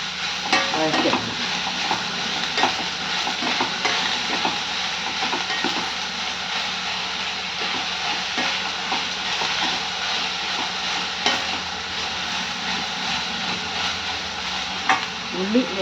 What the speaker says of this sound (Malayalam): അപ്പം ഉള്ളി നല്ലോണം വഴറ്റിയെടുക്കണം.